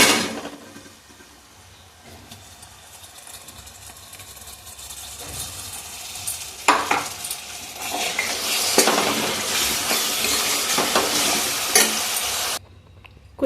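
Ground coconut masala sizzles and fries in a pan for kheema curry while a spoon stirs and scrapes it, starting quietly and growing into a loud, steady hiss with occasional clinks before cutting off abruptly.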